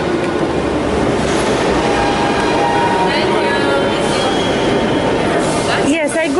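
Train cars rolling past close by, loud and continuous, with rhythmic clacking of wheels, metallic squealing and a brief horn-like tone near the end; voices can be heard under the noise.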